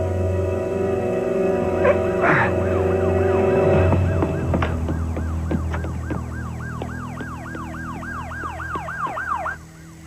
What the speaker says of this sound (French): Ce sont peut-être les sirènes qui lui ont fait peur.